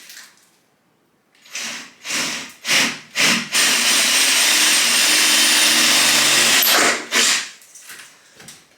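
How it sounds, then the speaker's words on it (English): An electric drill bores pilot holes for mounting a solar panel on a Renault Trafic campervan, in several short loud bursts followed by one long continuous whirring run and a few more brief bursts. "drill the pilot holes a little bit bigger to fit the nuts and bolts."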